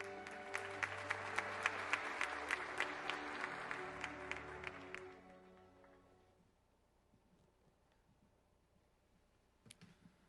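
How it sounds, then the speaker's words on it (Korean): Guests at a Korean fintech industry evening gala applaud to welcome an association chair to the stage, brisk clapping over steady background music that fades after about five seconds, followed by a few faint clicks. "여러분 박수로 환영해 주십시오."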